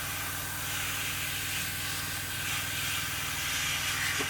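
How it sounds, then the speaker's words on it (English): An air compressor runs indoors during airbrushing of a Tamiya 1/32 F-16CJ model, giving a steady low pulsing hum under a constant airy hiss at moderate level. "I hope you can excuse the compressor noise"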